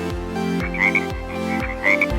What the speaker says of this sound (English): Flying tree frog.